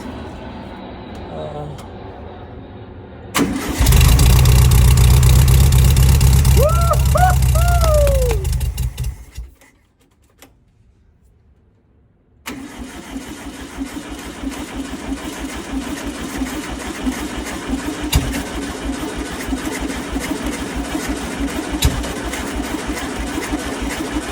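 A 1971 Volkswagen Bay Window engine is cranked and runs roughly for a few seconds in a loud, rattling burst, then cuts out, followed by a lower steady mechanical hum and background noise.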